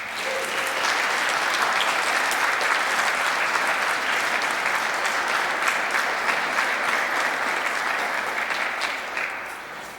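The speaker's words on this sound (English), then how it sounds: "I'd like everybody to give them a round of applause for their efforts and time." An audience at a Boy Scout Troop 12 Court of Honor applauding the scouts, a dense, steady round of clapping from a crowded room that fades out toward the end.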